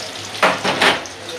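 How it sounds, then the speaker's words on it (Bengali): Onion paste frying in hot oil in a pan for a big katla fish bhuna, with a steady sizzle and two short bursts of stirring, close and fairly loud, no voices. "পেস্ট একটু সুন্দর করে ভাজা ভাজা করে পরে একে একে সব মশলা দিয়ে দেবো"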